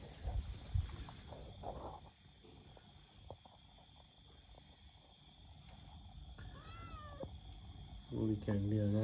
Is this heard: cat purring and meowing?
yes